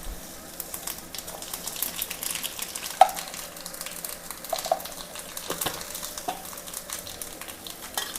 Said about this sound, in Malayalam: അല്പം കടുക് പൊട്ടിക്കാം.